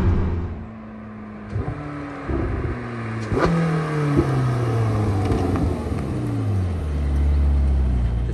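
A Porsche 918 Spyder Weissach hybrid hypercar in Martini livery accelerates hard, its engine note climbing through several gear shifts with sharp pitch drops between them, loud and close, then settling into a deep steady drone.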